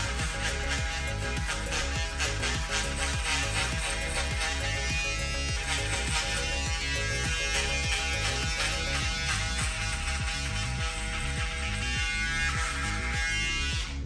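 An electric shaver buzzes close up during a high taper skin fade haircut, a continuous rapid buzzing with rhythmic pulses as it passes over the head, without talk.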